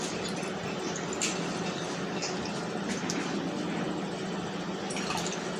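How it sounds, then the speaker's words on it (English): A 250 ml measure of distilled water is poured into a container to calibrate a digital pH meter, giving a soft, steady trickle close by with a few brief splashes and drips mixed in. "I'll be pouring it here."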